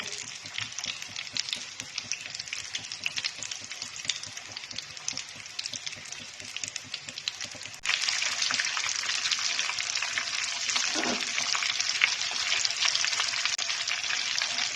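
Chicken, cheese and potato balls shallow-frying in oil and gently turned, a steady crackling sizzle that grows louder and denser about halfway through; no talking.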